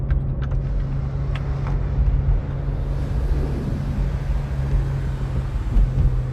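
Interior rumble of a 2019 Mercedes-AMG C43 engine in Sport Plus mode with manual shifting and the sunroof open, a steady low drone with wind noise, moderately loud and unbroken, no talking.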